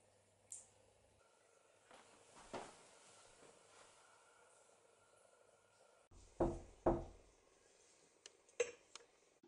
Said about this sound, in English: What is this knocking?